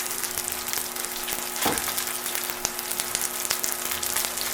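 Duck breast laid skin-side down in a pan over medium heat gives a steady, dense sizzle and crackle with a few sharper pops, close up and with no voices.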